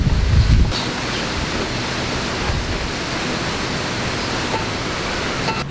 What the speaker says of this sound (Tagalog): Alakas ng hangin.